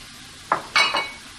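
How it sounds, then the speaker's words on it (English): Shrimp in a pan with cilantro being stirred in, heard as a soft background sizzle with three short scraping and clinking utensil sounds close by, the middle one the loudest. "let's stir in that cilantro, let it wilt"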